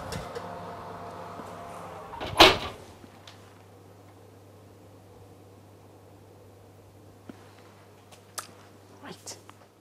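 An oven door shuts with a single sharp clunk as chocolate-centred cupcakes go in to bake at 180 degrees, followed by a low steady hum and a few faint clicks in a quiet kitchen.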